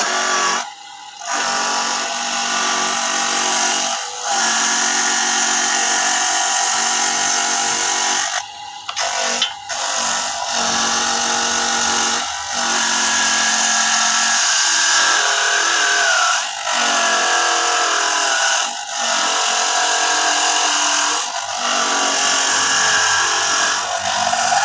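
A coconut grating machine runs continuously with a loud, steady mechanical whine and grinding. Brief dips come as coconut is pressed against it, and no voices are heard.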